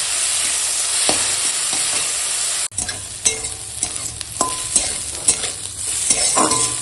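Radish greens fry with a steady hiss in a pan, broken by occasional sharp scrapes and knocks of a stirring spoon; no one speaks.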